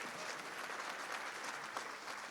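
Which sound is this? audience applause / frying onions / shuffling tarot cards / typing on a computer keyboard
audience applause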